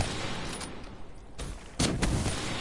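Gunfire in the video game Call of Duty Black Ops 3 runs as a dense, continuous wash of shots and noise, with a sharper, louder burst of fire near the end.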